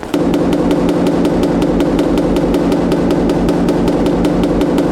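A small hammer taps on a car body panel during body filler work, giving a steady, even run of about twenty light, close taps over a constant background hum.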